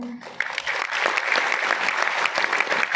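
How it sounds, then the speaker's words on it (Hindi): An audience at a coaching-institute motivational orientation in Kota applauds, dense sustained clapping from many hands that stays loud throughout, with a voice briefly audible at the start. "एक बार जोरदार तालियां होनी चाहिए"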